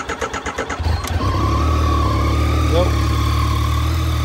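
A cold 2019 Yamaha Tracer 900 motorcycle cranks over with a rhythmic starter churn, fires up, and settles into a steady, loud close-up idle; a voice speaks briefly near the start.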